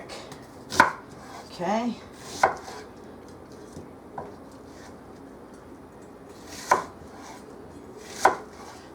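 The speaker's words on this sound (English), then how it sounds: "I'm going to cut up this onion real quick." An onion being rough-chopped with a knife on a cutting board while meatloaf is prepared: a few sharp, separate chops spaced irregularly, close and fairly loud, with a brief spoken word.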